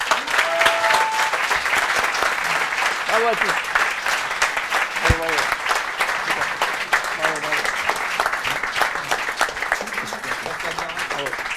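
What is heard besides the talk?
audience applause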